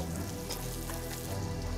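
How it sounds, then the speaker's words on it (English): Onions and basil frying in a pan, a dense, steady sizzle close up that continues without a break. "Sean has added some basil into some frying onions"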